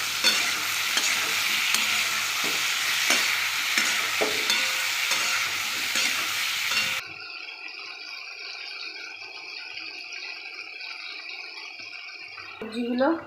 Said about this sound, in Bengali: সবজিগুলো ভালো করে ভাজা হয়ে গেল। সেগুলো তেল ছেড়ে দিয়েছে।